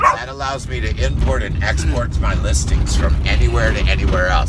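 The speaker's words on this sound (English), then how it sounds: "Sorry for the dog barking, guys." A dog barks and yips repeatedly in the background while a person keeps talking close to the microphone.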